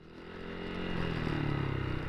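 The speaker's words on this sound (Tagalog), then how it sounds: "Maingay yung motor ko eh" A motorcycle engine, heard through a helmet Bluetooth intercom microphone, idles and rises in a low, throbbing rumble, growing slightly louder over a couple of seconds, with no voices.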